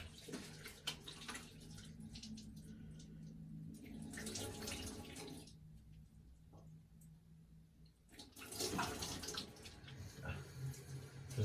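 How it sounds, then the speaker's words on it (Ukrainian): Warm water running in a bathroom while rinsing off, splashing and gushing in bursts with quieter gaps between, fairly soft and close. "Змиваю теплою водою."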